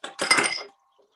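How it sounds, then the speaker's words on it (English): An immersion blender flipped and clattered into a bowl, giving a quick burst of clinking, rattling impacts lasting about half a second before falling silent. "I just flipped my immersion blender and it was very acrobatic"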